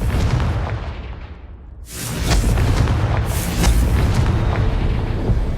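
A Confringo fire spell blasts in Hogwarts Legacy, a loud booming explosion that erupts around the two-second mark and then rumbles on, with a second swell of crackling blast noise following close behind.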